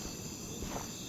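Crickets chirping at dusk in the video game Minecraft, a dense, steady insect trill filling the short clip at moderate loudness with no voices.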